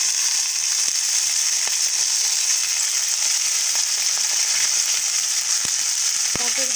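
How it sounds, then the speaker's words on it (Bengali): Taro leaves frying with chili and garlic in a pan give a loud, steady sizzle throughout, with occasional sharp crackles and pops. "এখন আমি এটাকে সুন্দর করে ভেজে নেব।"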